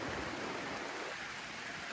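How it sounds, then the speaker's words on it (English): Heavy rain pours steadily at Bluffs Hut in the Victorian High Country, a dense, even hiss that stays constant throughout with no talk. "Pouring rain."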